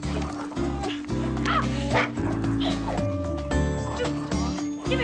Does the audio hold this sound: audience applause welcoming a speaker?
no